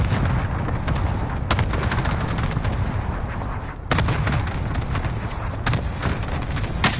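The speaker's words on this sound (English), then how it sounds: "Cluster strike is active." A cluster strike in Call of Duty Warzone on Caldera pounds down as heavy, rumbling blasts and booming hits, with sharp impacts near 1.5, 3.9 and 6.3 seconds over a constant loud roar.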